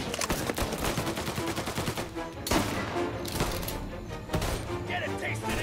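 Rapid bursts of automatic and single gunfire in the Mafia Definitive Edition video game, loud and dense, with brief gaps between volleys and voices speaking intermittently over the shooting.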